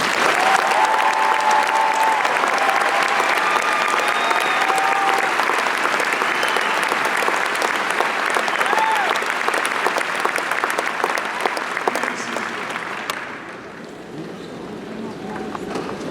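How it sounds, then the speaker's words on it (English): Graduation audience at a high school ceremony gives a long, loud round of sustained applause with some crowd noise, tapering slightly near the end as it settles. "Please join me one last time, giving them a round of applause."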